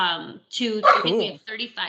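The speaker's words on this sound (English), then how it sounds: "that's my dog" A pet dog barks a few times in a home setting, the yaps and bow-wows close and fairly loud, mixed with a person speaking over them.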